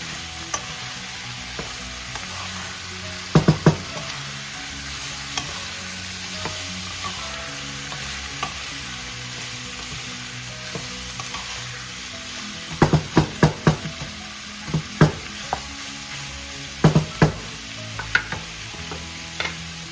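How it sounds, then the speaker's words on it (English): Beef sautés in a pan for a Filipino beef pares stew, a constant close sizzle punctuated by several sharp metallic spatula clanks against the pan in short bursts, with no talking. "Now we add the meat. Woo! Boy, that's good. Then I saute the meat."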